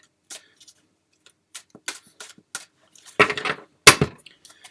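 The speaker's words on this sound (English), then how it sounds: "Just a couple more shuffles and we'll get into it." Tarot cards shuffled by hand at close range: scattered soft taps and flicks, then two louder, denser riffling bursts near the end, with no talking.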